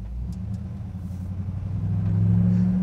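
A 1954 Chevrolet pickup truck engine pulling at half throttle, a steady low rumble that swells louder over the last second.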